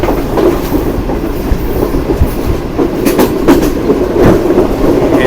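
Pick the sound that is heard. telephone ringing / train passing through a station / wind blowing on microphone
train passing through a station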